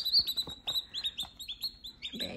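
Lavender Ameraucana chicks peep in rapid, high-pitched chirps, a close cluster of repeated short calls overlapping one another throughout.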